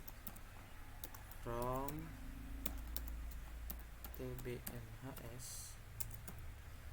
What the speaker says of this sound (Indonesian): sekarang kita ketikkan lagi select